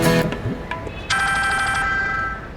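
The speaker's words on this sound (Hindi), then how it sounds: "मैडम जी, ये तो विक्की साहब का फोन है" A phone rings loudly with a bright electronic ringtone, a short burst at the start and then a sustained trilling tone, close by with no talking.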